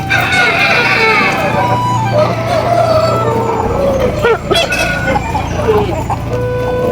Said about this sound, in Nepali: ओहो कत्रा भाले हुन् यार